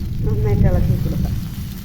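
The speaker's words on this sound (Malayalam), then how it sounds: "നന്നായിട്ട് ഇളക്കി കൊടുക്കാം." Cooked wheat is stirred through hot oil in a pan, producing a dense low sizzle and soft scraping throughout, close up and steady.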